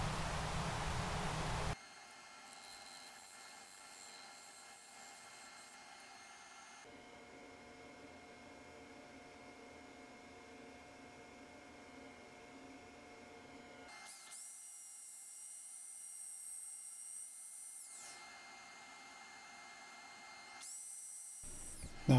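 Sanding a wooden bowl with epoxy inlay on a lathe gives a steady, close broadband hiss over a low motor hum, shifting in tone between passes and pausing briefly.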